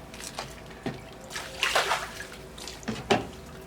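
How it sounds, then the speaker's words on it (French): Water is poured and splashed to rinse a reverse graffiti surface, producing irregular sloshing and splattering bursts that swell and fade, moderately close, with no voices. "On peut passer un coup d'eau dessus."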